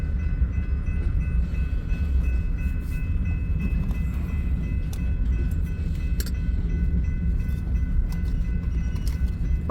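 Freight train with coil cars rolling past at close range, a loud continuous rumble of wheels on rails with rattling cars and faint metallic ringing layered over it.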